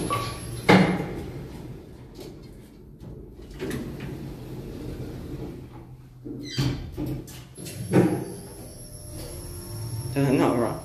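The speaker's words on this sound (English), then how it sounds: "Only go to see the very squeaky doors when they close." Doors of a KONE Ecodisc MX10 passenger lift rated 1,000 kilograms at a fitness centre in North Lakes, Queensland, squeaking and scraping as they slide shut, with short thuds and a high whine; a voice talks at times.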